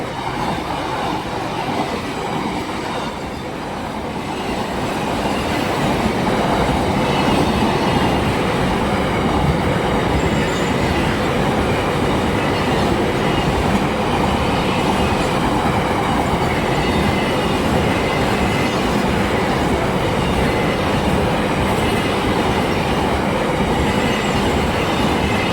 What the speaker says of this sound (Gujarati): એક નંબર ટ્રેન આવી છે. જો કેટલી ફાસ્ટ જાય છે